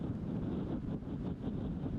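Strong wind buffets the microphone in a continuous low rumble, gusting unevenly throughout, on an outdoor disc golf course.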